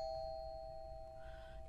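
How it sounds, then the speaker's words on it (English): A video game doorbell rings with a clear, sustained electronic chime tone that carries on alone for the whole moment. "why would you ring the doorbell?"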